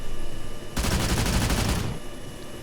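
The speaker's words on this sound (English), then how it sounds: "But this one has got a big cannon." The heavy cannon on a Super Hind helicopter in Arma 3 fires one loud, rapid burst lasting about a second, its closely spaced shots merging into a dense roar against quiet background.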